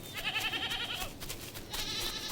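Goats at a goat farm bleat in a wavering, harmonic cry for about a second, with another bleat rising near the end, close and fairly loud over a busy farmyard background.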